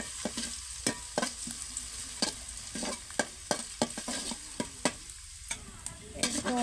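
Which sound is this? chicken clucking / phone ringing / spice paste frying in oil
spice paste frying in oil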